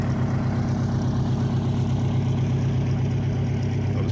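A 1974 Kenworth truck's heavy Detroit diesel engine idles with a steady low, rumbling throb, continuous and close, with no voices.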